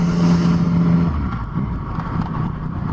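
A Yamaha FZ09 motorcycle with a quick shifter gives a short, sharp engine rev blip close by, its steady hum breaking into a brief rising burst and then settling back to a rougher idle.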